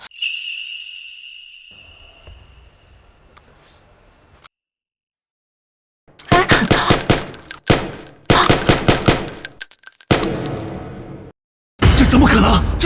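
Gunshots during a fight scene in a Chinese short drama: after a quiet tone and low rumble, several bursts of rapid, loud, sharp shots ring out with metallic clinks, separated by brief silences.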